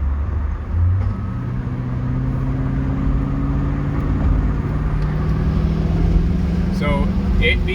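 Chevy Suburban with a 5.3 liter engine cruising at speed on a freeway, a steady droning hum and rising engine whine that holds throughout. Someone talks over it.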